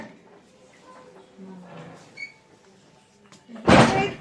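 A house door shuts with a sudden loud thud at the very end, after a stretch of quiet indoor chatter.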